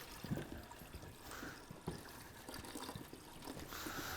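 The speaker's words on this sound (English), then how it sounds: "maybe put water in it now" Water poured into the cooling system of an AWD V6 turbo S10 pickup, a soft steady trickle and splash running for several seconds, fairly quiet with light clunks in the background.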